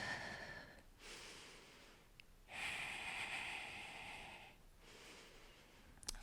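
Slow, deep breaths are drawn in and let out during a Pilates breathing exercise, airy and close, each lasting a couple of seconds with short pauses between.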